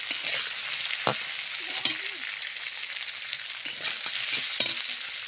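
Vegetables seasoned with sugar and salt sizzle steadily in a hot frying pan for fried rice, a continuous close hiss with occasional stirring clatters and scrapes on top.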